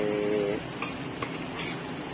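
Food being stir-fried in a pan: quiet scraping stirs and a few sharp utensil clicks over a faint, low sizzle.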